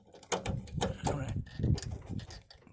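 A plastic fuel line connector snaps onto its prong on a Nissan Versa during a fuel filter install, giving a few brief, sharp clicks close by amid handling noise and a murmuring voice.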